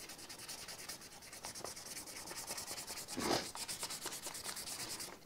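Close, quiet hand sanding of a vintage motorcycle part with 400 grit sandpaper: rapid, rhythmic back-and-forth rubbing strokes with one slightly louder scrape midway, no voices.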